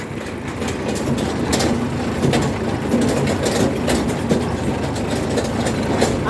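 A Kubota B2441 compact tractor pulling a small trailer, its engine running with a loud, continuous low rumble and clattering rattles throughout, no speech.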